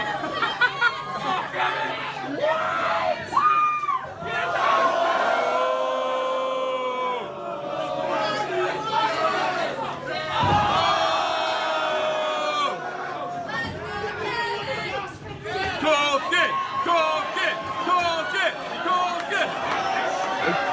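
A live audience at a podcast taping cheers, whoops and chatters in a loud crowd burst, mixed with voices talking and shouting over it.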